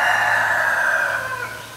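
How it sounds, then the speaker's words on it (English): Backyard chickens and roosters cluck and crow in a steady, fairly loud chorus that fades slightly toward the end, with no talking over it. "Sorry, my chickens took off running."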